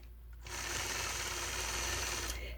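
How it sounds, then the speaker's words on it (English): A sewing machine stitching in the ditch around the yellow part of a quilted star block starts up after a brief pause and runs as a steady close whir to the end, with no talking. "I'll stitch in the ditch around the yellow portion of this star."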